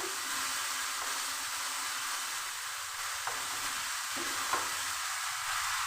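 Spice paste sautéing in a pan, a continuous soft sizzle and hiss with occasional faint scrapes and taps of a stirring utensil against the pan.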